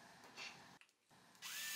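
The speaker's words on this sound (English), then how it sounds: "using your larger drill bit, drill the full-size hole where the Schrader valve will mount to" A power drill bores a full-size hole in a PVC end cap with a larger bit, whining in two bursts separated by a short pause, the second rising sharply in pitch, close and loud.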